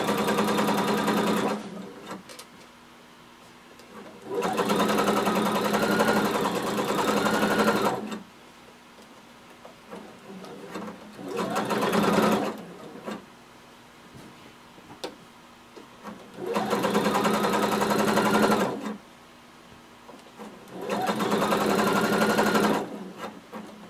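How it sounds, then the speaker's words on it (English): A sewing machine runs a long basting stitch on a Mimi G jumpsuit (Simplicity 1115), buzzing in four or five steady bursts of several seconds each, separated by short quiet pauses. "starting at the top, we're just going to sew a basting stitch. We're still using a really long stitch."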